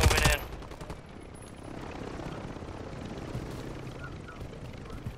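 Call of Duty gameplay: a helicopter and gunfire, opening with a sharp, loud burst, then a steady, rumbling, rotor-like drone with rapid firing textures underneath, continuing for several seconds.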